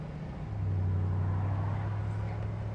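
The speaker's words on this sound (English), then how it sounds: "beautiful richness to the sound of this engine" A 1956 Ford Fairlane Victoria engine idles nearby with a deep, steady rumble and a smooth, even hum, holding constant for a few seconds.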